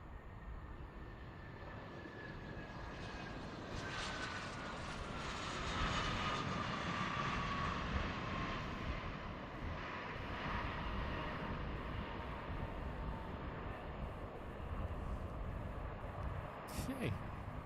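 KC-135 tanker aircraft jet engines roar at an airfield, a faint, distant, sustained whine and rumble that gradually builds and holds, with a voice talking at times.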